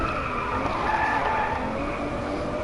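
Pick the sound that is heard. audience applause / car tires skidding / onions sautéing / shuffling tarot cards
car tires skidding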